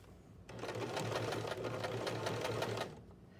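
Sewing machine stitching fabric during a pivot-stitch seam, running steadily and close for about two and a half seconds with a fast even needle rhythm, starting and stopping cleanly with no talk.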